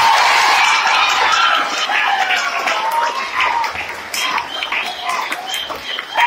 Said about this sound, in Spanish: nosotros queremos un aplauso especial para ese gran baluarte